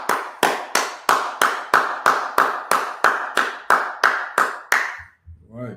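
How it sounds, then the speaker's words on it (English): An audience claps in a steady, unison rhythm, about thirteen sharp, evenly spaced claps close by, then stops. A brief low murmur follows at the end. "Go ahead, clap it up."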